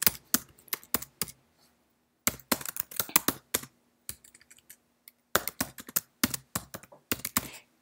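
Fingers type a filter name on a computer keyboard in quick bursts of light clicking keystrokes, pausing briefly between groups, close and clear with no talk.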